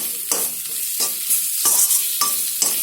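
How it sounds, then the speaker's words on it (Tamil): A spoon scrapes masala around in hot oil in a pan, giving rhythmic stirring strokes roughly every two-thirds of a second over a light sizzle, close-up with no talk. "இப்போ இதை நல்லா கிளறி விடணும். இப்போ நல்லா மிக்ஸ் பண்ணிடணும். அந்த எண்ணெயிலே நல்லா மிக்ஸ் பண்ணணும்."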